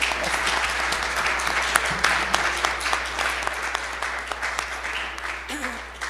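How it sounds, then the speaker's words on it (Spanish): Audience applause at a poetry anthology presentation during a national book fair in San Luis Potosí, Mexico: sustained clapping from a crowd in a hall, steady and fairly loud, slowly tapering, over a low electrical hum. "Denle un aplauso, por favor."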